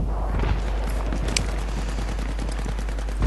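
In the video game Battlefield 3, dense gunfire crackles in rapid, overlapping bursts and single shots, loud and continuous throughout, with rumbling booms underneath.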